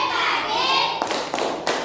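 Three sharp claps ring out in quick succession after a stretch of busy classroom chatter, with children's voices continuing underneath.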